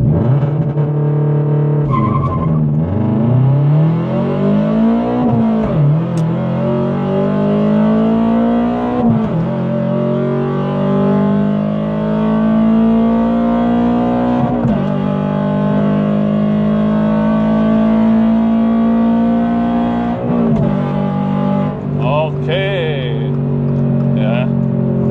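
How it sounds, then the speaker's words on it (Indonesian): A 2023 Subaru BRZ with a manual gearbox and stock tires launches with prolonged wheelspin at 4500 RPM, the engine roaring steadily and climbing through gears with tire squeal, loud and close. "Kita bisa lihat di RPM 4500 rupanya spinnya kepanjangan karena ini masih pakai ban standar ya, bikin mobilnya spin kepanjangan"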